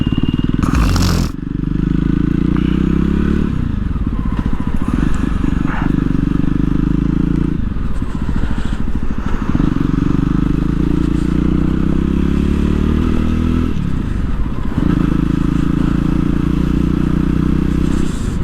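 A Jawa Perak motorcycle's exhaust rumbles loud and close during a ride, holding a deep steady throb that swells and eases in several long surges as the throttle opens and closes, with wind buffeting throughout.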